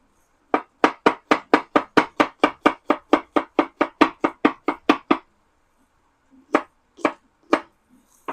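Knife dicing an onion on a cutting board, about twenty quick, even chops in a steady rhythm, a pause, then a few slower chops, close and clear.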